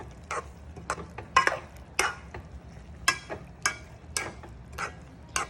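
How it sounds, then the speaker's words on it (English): Spoon stirring Puerto Rican picadillo in a frying pan, a series of sharp scraping clacks against the pan at an irregular pace over a faint sizzle, close and clear with no talking. "I'm going to mix this up"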